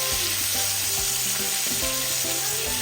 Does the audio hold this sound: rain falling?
no